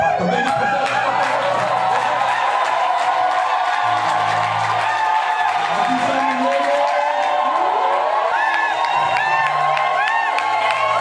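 A crowd acclaims at a church event with a bishop present, loud continuous cheering and shouting with some clapping, mixed with voices and music throughout.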